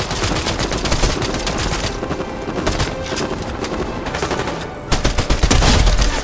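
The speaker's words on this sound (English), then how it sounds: "Alright, you hear some shooting right here?" Fortnite gunfire crackles loud and close in dense rapid bursts, like automatic weapon fire, broken by a brief lull before a heavier volley; no talk is heard over it.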